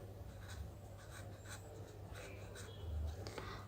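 Pen writing an answer in a notebook during a class lesson, faint soft scratching strokes in short bursts over a low steady hum.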